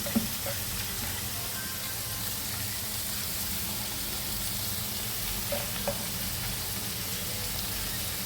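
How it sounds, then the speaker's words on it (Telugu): Chicken pieces for a Mulakada chicken gravy curry sizzle steadily in a pan while being stirred, with a constant frying hiss and a few faint scrapes of the spoon. "ఇలా నీట్గా కలిపేసుకుంటే ఏ ముక్క ఉడికిపోతుంది"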